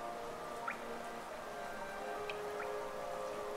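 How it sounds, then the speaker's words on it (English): Steady rain falling through a vast underground stone city in Hollow Knight, a soft continuous wash under a calm musical drone with a few faint drip-like chimes, quiet and even. "the rain pours down from cracks in the stone above"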